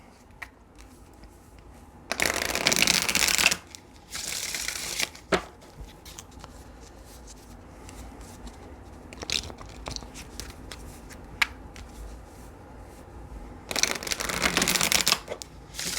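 Oracle cards being shuffled during a tarot-style reading, three separate bursts of riffling, each a couple of seconds long, loud and close against a quiet room, with a few small taps and handling sounds between them.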